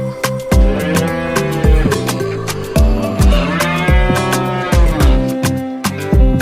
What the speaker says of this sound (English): Cow says moo.